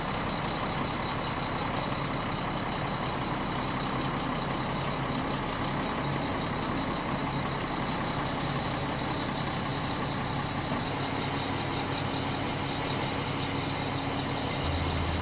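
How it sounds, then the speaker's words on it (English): A boom truck creeps slowly past house-moving jacks while bringing in roll beams, its steady engine rumble running continuously under a faint high beeping. "The boom truck brings in the roll beams, moving slowly and carefully past the jacks."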